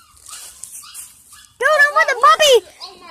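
A puppy barking and whimpering at a horse outdoors, a quiet stretch followed by a loud burst of yips and whiny barks close by, with people talking around it.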